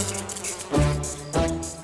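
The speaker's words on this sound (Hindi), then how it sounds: "एक बात बता पंकज, ये मच्छर मुझे क्यों काटते, तुझे क्यों नहीं?" A close insect buzz hums steadily, and two louder, nearer swells of whine pass by the ear in quick succession.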